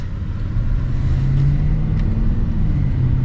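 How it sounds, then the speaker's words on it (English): The supercharged 5-liter V8 of a 2024 Jaguar F-Pace SVR rumbles and builds as the car accelerates, a deep steady growl heard from inside the cabin. "nice sounds from the 5-liter V8"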